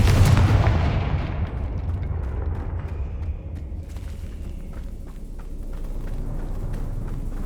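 Confringo fire spells burst in the video game Hogwarts Legacy, a loud opening blast decaying into rumbling, crackling explosions that keep going at lower level.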